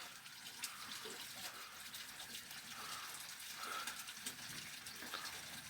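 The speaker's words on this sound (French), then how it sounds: "Ce bruit c'est le tuyau." Water courses steadily through a nearby pipe outdoors near trees during a storm, a continuous hissing rush with faint mechanical ticking, no talk over it.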